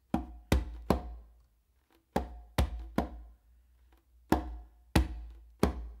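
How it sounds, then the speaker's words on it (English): Hand drumming on a conga with the non-dominant hand in a finger, bass, finger pattern: crisp, close strikes in repeating groups of three with short gaps between groups, played alone. "what we're gonna do is a finger, bass, finger, all with our non-dominant hand on the conga"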